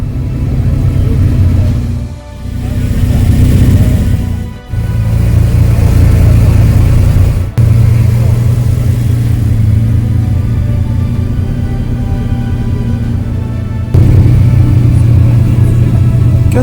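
A 200-horsepower car engine at a classic car show runs loud and close with a deep steady rumble, its pitch rising and falling with repeated revving.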